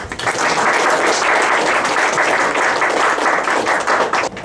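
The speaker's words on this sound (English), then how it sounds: "applause to Dr. Rossetto for his work on the Pheonix" Applause at a school poetry slam and literary magazine launch, steady, loud, dense clapping from a crowd, sustained without a break for several seconds.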